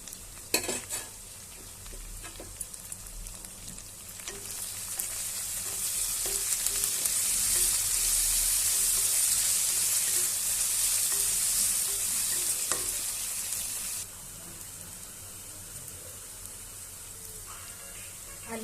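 Onions sizzle and fry in a pan for chicken curry, a continuous bright hiss that swells in the middle and eases later, with occasional clinks and scrapes of stirring.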